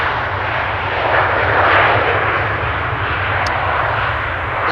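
Jet airliner touching down at Amsterdam Schiphol Airport, its engines swelling into a broad, loud roar as thrust reversers deploy, then holding steady, heard from a distance without talk.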